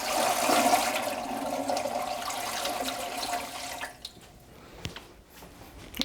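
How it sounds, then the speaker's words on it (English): Water pours steadily into a pressure canner, a broad rushing splash that runs for about four seconds and then stops, leaving only a few faint drips and clinks. "And I'm just going to add water."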